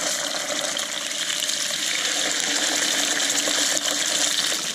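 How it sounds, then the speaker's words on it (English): Two salmon pieces fry in a little sunflower oil in a hot pan, giving off a loud, continuous, dense sizzle with no break throughout. "So when that pan's nice and hot, we drop our fish in."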